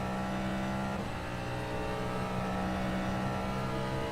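Racing engine of the DPi HyperCar prototype lapping Spa-Francorchamps in the rFactor 2 sim, a loud, steady droning roar with a brief gear-change dip near the start, then holding a sustained high-revving tone throughout.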